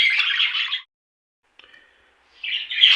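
Budgerigars chirp in short bursts inside an indoor bird room, with a brief pause of silence between bright, close chattering calls.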